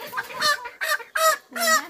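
A Brahma chicken being held for a vaccination gives four loud, close, squawking clucks in quick succession, each a short harsh burst.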